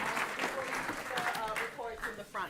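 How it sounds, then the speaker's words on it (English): An audience applauds after a talk, sustained clapping at moderate distance with some uneven swells, while a voice speaks over it. "Keep that round of applause going."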